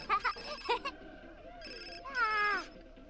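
A ringing cell phone in The Sims 4 video game chirps briefly with a melodic electronic ringtone, preceded by short character voices and game sounds, fairly close and moderately loud.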